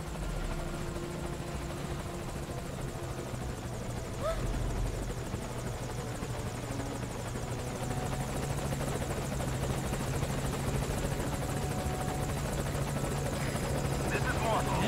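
Helicopter rotor and engine drone from the Morpho helicopter arriving at a landing zone in the video game Metal Gear Solid V: Ground Zeroes, a steady continuous hum throughout with voices talking over it.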